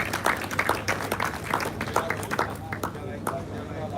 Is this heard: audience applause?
yes